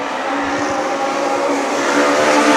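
Legend cars race around a track during a marathon event, with loud, continuous engine roar and droning high-revving exhaust from several cars passing close by.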